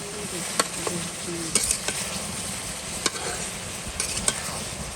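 Vegetables and fish cook in a pan with a steady, close sizzle and frying hiss, broken by a few scraping clinks of stirring and no talking.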